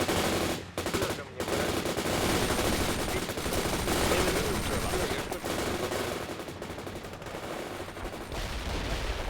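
Sustained heavy gunfire in the real-time strategy game World in Conflict, with dense machine-gun fire and explosions running almost without a break in a loud, busy battle mix.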